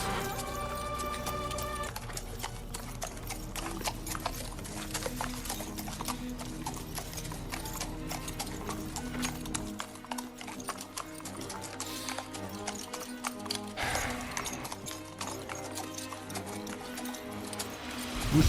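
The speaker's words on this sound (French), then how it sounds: "Vous êtes à cheval." Horses gallop with a steady, rapid clip-clop of hooves and an occasional whinny, continuous throughout at moderate loudness over a soft ambient background.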